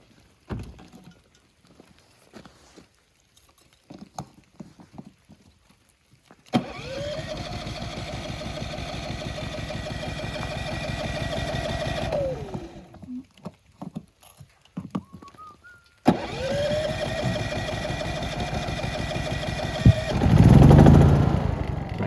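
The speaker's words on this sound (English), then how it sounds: "running the engines for a little bit" A motor engine starts up and idles steadily at close range, cuts off briefly, then starts again and keeps running with a steady low rumble.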